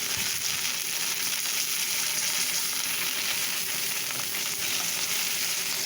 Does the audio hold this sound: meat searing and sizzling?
yes